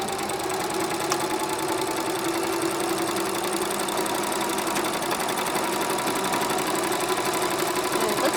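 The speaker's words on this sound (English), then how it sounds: "I'm just going to take a couple stitches forward, a couple stitches back to back stitch, and then just sew right down the middle" A sewing machine stitches a quilted hot pad at a steady, continuous run, close and moderately loud, with no speech over the whirring motor.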